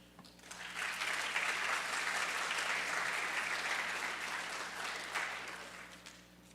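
An audience breaks into sustained applause for a list of scholarship recipients at an agriculture education awards event; the clapping swells quickly, holds evenly and tapers off near the end, with no talking over it.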